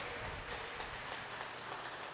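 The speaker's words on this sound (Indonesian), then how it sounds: "Tepuk tangan dulu" An audience applauds at a pesta gondang celebration in a hall, a faint, steady patter of clapping heard from a distance.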